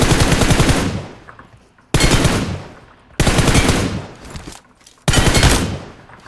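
Automatic weapon fire in the mobile shooter PUBG Mobile, played on an emulator: four loud, rapid bursts, each cut off abruptly with a short pause between, close and dominant with no talking.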